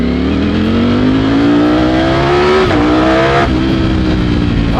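A Ducati Streetfighter V4S motorcycle engine revs loud and close, its steady droning pitch climbing gradually, dipping briefly and then climbing again without a break.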